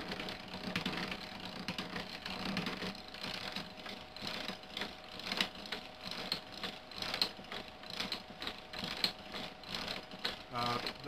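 Ajax boring machine cutting a hole into a 4x7 beam of freshly milled Eastern White Pine, a steady run of rapid rhythmic scraping and crunching clicks from the bit working the wood, close and fairly constant throughout.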